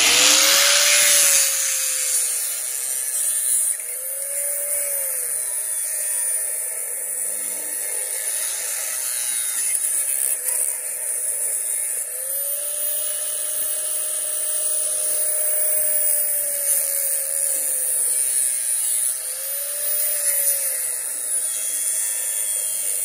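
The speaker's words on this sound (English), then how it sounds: "So yeah, I got a new grinder. What we're just going to do is slice this case." A new angle grinder slices open a case, a loud continuous high whine with the disc pitch dipping and rising repeatedly as it bites into the material, steady and close throughout.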